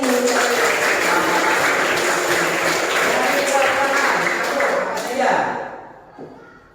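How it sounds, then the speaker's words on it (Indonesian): Classroom applause for a student who answered correctly in an Islamic jurisprudence lesson, a loud burst of children clapping with voices mixed in that carries for about five seconds, then fades out abruptly. "Tepuk tangan untuk ini."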